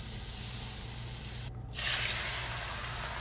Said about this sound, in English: in the same pan, we're gonna go ahead and add some butter